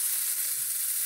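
Steady, loud sizzling and crackling of duck frying in a hot pan, a continuous hiss with no talking.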